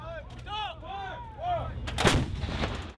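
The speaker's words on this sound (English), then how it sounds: "is learning to fire heavy artillery" Heavy military artillery fires during a battery training exercise in the Pacific Northwest, as one loud, deep blast booms out and rumbles away. Rising and falling tonal swoops come just before the shot.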